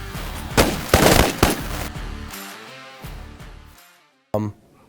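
Shotguns fire during a waterfowl hunt: three loud, sharp blasts come in quick succession, a lingering roar follows, and one last sharp shot rings out near the end after a brief silence.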